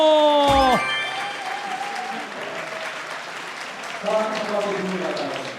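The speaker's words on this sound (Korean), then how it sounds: "박수로 환영해 주세요." An audience applauds to welcome a songwriter at a televised Korean music show, a broad steady wash of clapping that follows a brief voice at the start and swells again near the end.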